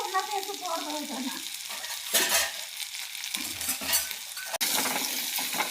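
Curry leaves and onions sautéing in a pan, with a steady close sizzle and occasional scraping stirs of a spatula against the metal.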